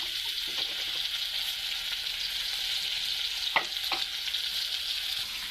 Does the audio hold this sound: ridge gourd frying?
yes